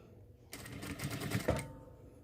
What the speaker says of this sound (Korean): 자연스럽게 박음질 해서 고정해 주시면 돼요